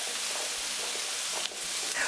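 Courgette sautés in a large pan over a flame, a soft, even sizzle with faint stirring scrapes, close but quiet and without speech.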